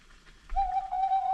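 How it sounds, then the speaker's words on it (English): A single owl hoot sound effect plays as a drawn-out tone lasting about a second, clear and fairly loud, with no talking over it. "The wise old noodle owl."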